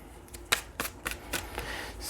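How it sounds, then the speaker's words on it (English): Tarot cards are shuffled by hand in a quiet room, a run of five or six quick, crisp riffling bursts that are soft and close. "One more shuffle."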